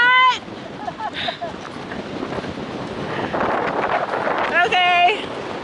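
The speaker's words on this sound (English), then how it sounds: "This is the wind that is blowing the smoke from the fire." Strong mountain wind blowing hard against the microphone, a loud continuous roar with gusts that rise and fall, with a person speaking in the wind.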